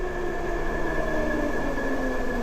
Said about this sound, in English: The brakes are already squeaking.